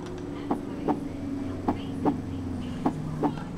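A battery-operated baby travel noise soother plays a heartbeat setting, a soft, regular double-thump pulse repeating about three times, close and steady over a low hum.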